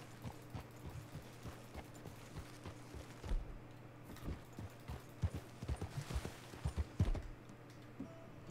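Horse hooves clip-clop in Red Dead Redemption 2, a steady walking rhythm of hoofbeats with louder, quicker steps later, over a low constant game hum.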